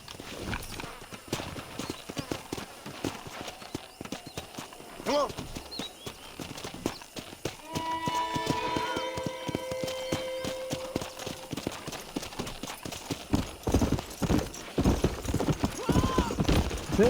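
Horse hooves clip-clop steadily in the Red Dead Redemption video game as a rider travels, a quick rhythmic clatter under game music, tones and a brief whinny, with speech mixed in.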